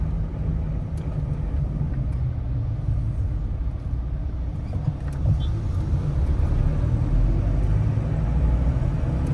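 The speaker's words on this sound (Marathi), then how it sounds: "हा ट्रक आपल्या अंगावर येतोय आता" A truck closes in on a car travelling a rough, partly diverted stretch of the Mumbai–Goa highway under road works, a steady low engine and road rumble filling the clip without letup, loud and near throughout.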